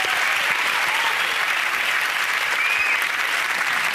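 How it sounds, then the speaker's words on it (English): A studio audience at a comedy panel show breaks into loud, sustained applause, a dense wash of clapping close by with no pauses. "With a round of applause to everyone involved."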